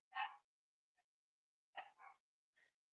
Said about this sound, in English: I can hear my dogs barking.